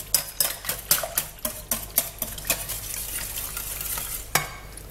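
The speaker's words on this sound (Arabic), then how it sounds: "خلطوا مليح باش الفرماج هذا كيتخلط مليح مع البيض" Brisk stirring of grated cheese into eggs in a bowl, a quick series of close utensil scrapes and clinks against the bowl that slows into a softer wet churning, ending with one last tap.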